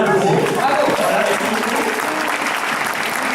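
Dense, loud applause from an audience at an open-air philosophy talk, a continuous wash of many hands clapping close by with no break.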